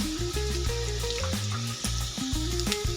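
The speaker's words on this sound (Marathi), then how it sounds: "मोहरी जिरे व्यवस्थित आपल्याला तळून घ्यायचे" Mustard seeds and cumin fry in hot oil with a crackling sizzle and rapid popping, close and fairly loud, alone with no voices.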